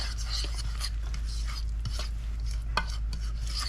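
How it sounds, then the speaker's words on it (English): Cornbread batter of oil, egg, cornmeal mix and milk being stirred in a bowl, a steady soft scraping and swishing with a low constant hum beneath and one faint clink. "You don't want to overstir it."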